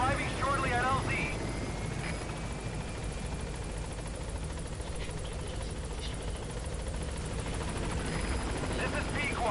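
Helicopter in Metal Gear Solid 5 arriving at a landing zone, a steady rotor and engine drone holding at an even level throughout, with brief speech and radio chatter over it near the start and end.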